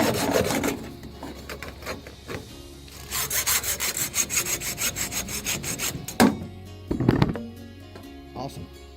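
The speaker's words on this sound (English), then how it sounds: "I'm not sure a hacksaw is the best tool" A hand hacksaw cutting through a rudder yoke wood piece, giving a series of rhythmic rasping strokes. A quiet stretch comes first, then a fast, steady run of strokes and a few final scrapes.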